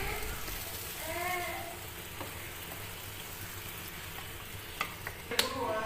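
Capcay vegetables stir-fried in a pan for a fried capcay made with only a little water, giving a steady close sizzle with scraping stirs and a few sharp clicks near the end.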